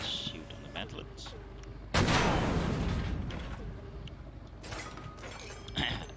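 Tank cannon fire in the Hell Let Loose video game, aimed at an enemy tank's mantlet: a single loud, sharp blast with a long decaying rumble, framed by quieter mechanical clanks and ratcheting turret sounds.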